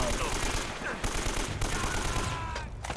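Gunfire in the video game Uncharted: Drake's Fortune, rapid bursts of automatic shots layered over busy combat noise, loud and continuous for the whole stretch.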